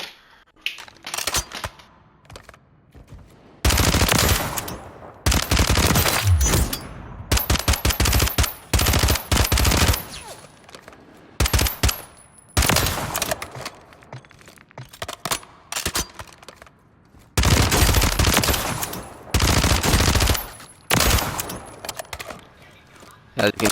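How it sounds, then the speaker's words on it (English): Rapid automatic gunfire in Call of Duty: Warzone, long loud bursts of machine gun fire separated by short pauses, with faint clicks and game sounds between bursts. "As you can see, this gun just bleeds through them tremendously."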